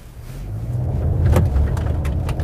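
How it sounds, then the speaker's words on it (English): A 2016 Honda Accord Sport, front-wheel drive, pulling away in drive from inside the cabin, with a low engine rumble and road noise that build smoothly and steadily. "All right, let's put her in drive. Let's roll."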